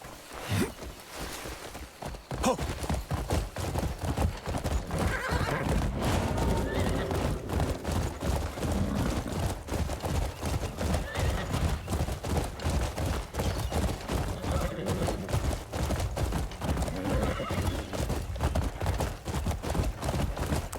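A horse in the video game Crimson Desert whinnies, then gallops in a steady, driving rhythm of hoofbeats that runs on loudly with no talk over it.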